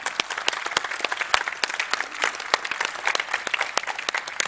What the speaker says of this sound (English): Let's have a round of applause for David.